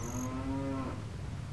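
A cow in Zelda: Ocarina of Time gives one clear, close tonal moo lasting under a second, over quiet game ambience, no talk.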